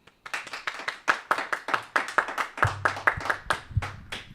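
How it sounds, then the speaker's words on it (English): A small group claps in close, steady rhythm for about four seconds, each sharp clap distinct and near, with a low hum entering partway through and no talking. "Applause."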